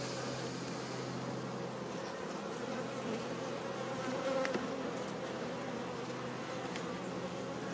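Honeybees swarm around the hives of newly made colonies during a beekeeping visit, a dense, steady buzzing drone filling the air throughout with no pauses.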